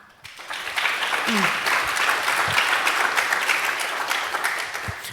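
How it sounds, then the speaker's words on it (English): Sustained audience applause fills a conference hall, starting abruptly and holding steady with dense clapping throughout; a brief voice cuts in early. "So big applause there."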